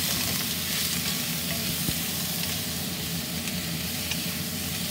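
Garlic and tofu sizzle steadily in a hot pan during a stir-fry, a dense, continuous frying hiss that stays close and even throughout with no voices.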